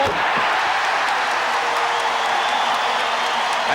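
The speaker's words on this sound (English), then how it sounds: "Listen to the crowd as the Celtics have come back, still trailing by 5" Boston Celtics home arena crowd roaring during a 1986 playoff game against the Chicago Bulls, a loud, dense, sustained cheer with scattered whoops filling the whole moment.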